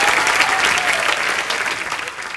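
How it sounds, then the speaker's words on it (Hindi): Studio audience on a Hindi comedy talk show, The Kapil Sharma Show, applauds to welcome actor Paresh Rawal: dense, sustained clapping that stays loud throughout and tapers slightly toward the end. "आप सबकी जोरदार तालियों के बीच बुलाना चाहूंगा"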